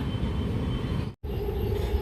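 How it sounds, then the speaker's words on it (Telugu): Several trains rumble past close by with a steady, loud roar, briefly cut by a short gap before the heavy rolling noise continues. "ఏంట్రా బాబు ఈ ట్రైన్లు ఎన్ని పోయినాయి"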